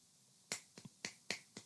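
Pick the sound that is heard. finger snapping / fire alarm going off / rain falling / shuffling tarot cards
finger snapping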